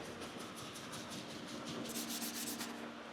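Window glass is scrubbed to clear leftover tint adhesive, a quiet, close rubbing in quick repeated strokes that speed up and grow slightly stronger toward the end, with no voices.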